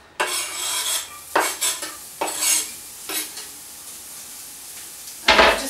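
Shallot dropped into hot pancetta fat in a pan, sizzling loudly, with repeated scraping stirs of a utensil against the pan and a final burst of frying near the end.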